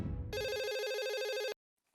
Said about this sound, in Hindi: मैं सोनू को फोन कर देता हूँ कि दादाजी भी हमारे साथ आ रहे